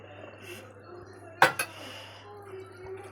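A utensil knocks and clinks against a pan while fish curry with raw mango pieces is stirred from the side, giving two sharp close taps over a low steady hum, with a faint clink near the end.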